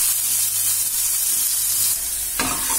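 Masala paste frying in hot mustard oil, a loud dense hiss and sizzle throughout, with a sharper burst of spattering near the end.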